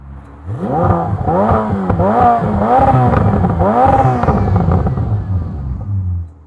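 A Ferrari F8 Spider turbocharged V8 with particulate filters revs several times in a row, each rise climbing and dropping back, sounding somewhat muffled and less piercing at about 106 decibels, close and steady throughout.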